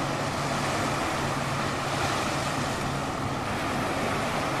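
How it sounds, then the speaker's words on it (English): A fast whale-watching Zodiac runs past offshore near Victoria on Vancouver Island, its motor blending into a steady broadband rush of waves and wind on the shore, continuous and fairly loud with no talking. "There goes a fast whale watching boat. Zipping out there on one of these Zodiacs."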